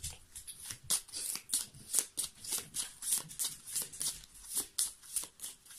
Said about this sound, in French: je vais seulement tirer que les cartes